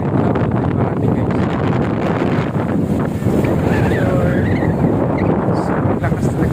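Strong wind buffets the microphone at Dolomite Beach in Manila, a loud continuous roaring rush with waves in the background. Someone speaks under it.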